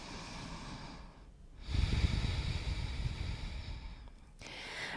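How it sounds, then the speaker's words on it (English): A deep breath taken while holding an open twist in a high lunge during a morning yoga flow, a steady airy inhale and exhale swelling at mid-clip, close and soft with no talking. "And take another deep breath here"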